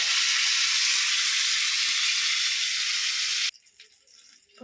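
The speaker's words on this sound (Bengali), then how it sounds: "এবার আমি মাছটা একটু ভেজে নেব" Rohu fish frying in oil in a kadai, a loud steady sizzle that stops abruptly, leaving quiet kitchen sounds.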